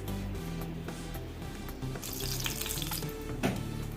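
Mustard seeds crackle and sizzle in hot coconut oil in a pan, a dense, steady frying hiss with scattered pops that grows brighter partway through.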